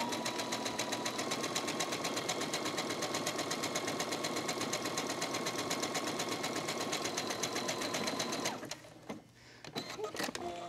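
Sewing machine zigzag stitching on fabric scraps without interfacing to make a fabric gift or luggage tag, running steadily and rapidly for about eight seconds, then stopping, leaving faint handling sounds.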